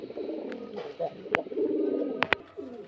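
Pigeons cooing nearby in soft, throaty bursts at a pigeon sale in Beldanga, with a few sharp clicks and some voices in the background.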